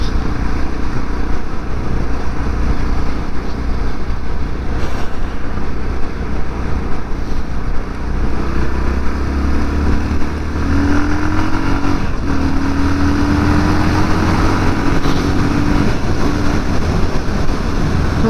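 Yamaha MT03 660 motorcycle pulling from 30 to 70 mph, with a steady engine drone under heavy rushing wind noise and a rising tone as it gains speed.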